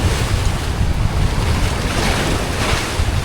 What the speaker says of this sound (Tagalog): Nalakas ng alon.